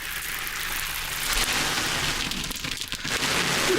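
Rain drums steadily on a tin sheet-metal roof, a dense hiss of patter that stays loud and close for the whole stretch, with no voices.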